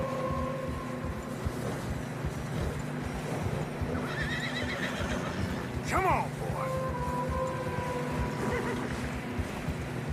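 Horses whinny and snort in Red Dead Redemption 2 while their hooves crunch and plod through deep fresh snow on a narrow trail, with a loud neigh midway and a voice speaking briefly over the steady trudging.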